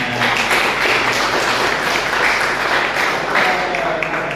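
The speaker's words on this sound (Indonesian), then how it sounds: "tepuk tangan" Steady applause from an audience at an Indonesian teaching session, dense clapping continuing evenly throughout without a break.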